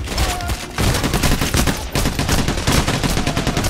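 Dense, continuous gunfire roars through a firefight in the heist shooter Payday, with overlapping bursts and rapid shots that stay loud and relentless throughout, barely pausing at all.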